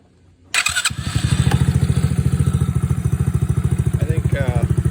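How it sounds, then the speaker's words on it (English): A Coolster 110cc ATV engine cranks and catches, then settles into a close, loud, rapid and even idle chug that runs steadily to the end. "Now if I start the motor, I should have showed you what it sounds like here."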